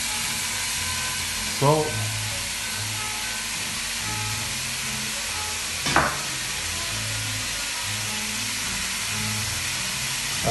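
Ragu sauce gently cooking in a pan gives a steady, soft sizzling hiss throughout, with a brief spoken word and a couple of light clinks over it.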